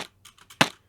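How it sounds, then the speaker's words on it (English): Several muffled, dull thumps of a hand slapping insulation, with one heavier, louder hit near the middle, close and without talk. "insulation sound when I hit it with my hand."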